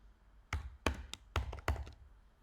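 Computer keyboard being typed on nearby, about five distinct tapping keystrokes in an uneven rhythm over two seconds, fairly crisp against a quiet background.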